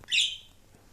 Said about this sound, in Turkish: Kuş da yine ötüyor.